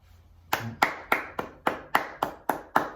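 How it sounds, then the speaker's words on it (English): About nine sharp, evenly spaced claps ring out close by in a school assembly hall, a crisp rhythmic beat of hands in unison celebrating Year 6 pupils. "Get ready for your big round of applause."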